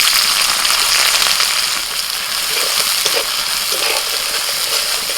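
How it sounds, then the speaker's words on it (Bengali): Loud, steady sizzling of chopped onion frying in hot oil fills the clip, a dense crackling hiss with no talking. "ওই তেলের মধ্যে দিয়ে দিচ্ছি পেঁয়াজ কুচি"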